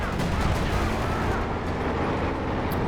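Artillery and gun blasts from a Company of Heroes 2 battle roar without a break, a dense booming din with scattered sharper cracks.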